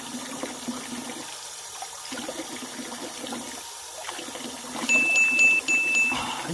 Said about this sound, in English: This is drinkable water, ladies and gents.